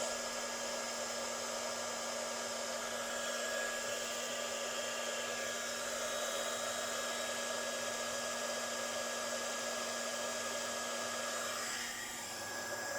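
A heat tool blows a constant, even whoosh and hum as it melts embossing powder on a wedding card. The airflow runs unbroken and close throughout, with no talking.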